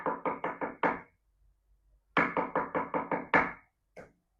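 Knocking on an old, fragile wooden door comes in two sharp bursts of rapid raps, five and then seven, separated by a pause and followed by one last faint tap, close and clear with no talk.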